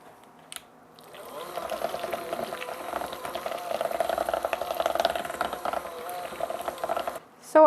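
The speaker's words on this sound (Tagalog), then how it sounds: "And then, let's give it a good mix again." Thick cheese pimento spread with pineapple being mixed in a bowl, a steady wet, sticky churning with faint clinks, moderately close, starting after a quiet opening and stopping abruptly near the end.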